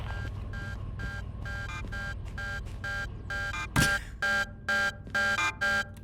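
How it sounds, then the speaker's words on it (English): Locomotive warning alarms sound inside a Derail Valley train cab, a steady buzzing tone under a low engine drone, then a sharp crash-like burst followed by a run of repeated on-off beeping pulses. "Interesting set of noise alarms on that one."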